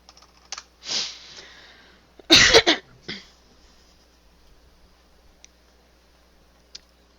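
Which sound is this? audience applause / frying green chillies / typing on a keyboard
typing on a keyboard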